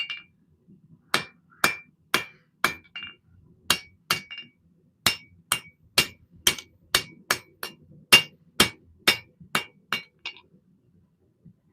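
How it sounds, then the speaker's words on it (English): A hammer strikes metal while a custom knife is forged, ringing clinks repeating at a steady, fairly quick rhythm, each blow sharp and close with a short metallic decay, with a few softer taps between. "This takes lots of hammer blows."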